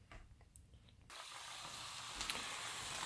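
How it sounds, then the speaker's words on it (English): Bacon sizzles in a frying pan, a soft, steady crackling hiss that starts abruptly after a second of near quiet and continues evenly at low volume. "So the bacon's now sizzling"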